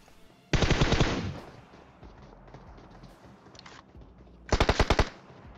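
Gunfire in the PUBG Mobile video game: two loud bursts of rapid automatic shots, a longer burst first and a shorter one near the end, with quieter ambience between.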